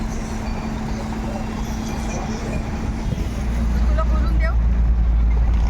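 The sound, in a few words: car driving on road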